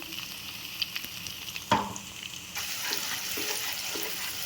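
Ground onion and green chilli paste with spices frying in a pan: a quiet sizzle with scattered stirring taps, one sharp clatter, then a louder, fuller hiss as the paste hits hot oil, close and without speech.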